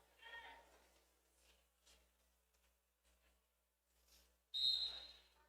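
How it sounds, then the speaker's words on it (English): A referee's whistle starts a jam at a roller derby bout between Sin City and Northern Arizona, one sharp, loud blast near the end after quiet commentary and background arena murmur. "There's the whistle."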